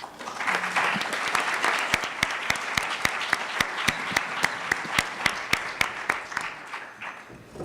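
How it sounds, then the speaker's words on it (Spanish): An audience at a Mexican social policy panel forum applauds the commentator and two speakers with steady, sustained clapping, punctuated by one louder, regularly spaced clap that beats almost like a metronome throughout. "Con este aplauso para nuestro comentarista y nuestros dos ponentes"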